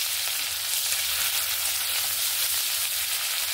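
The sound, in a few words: onion frying in oil with black cumin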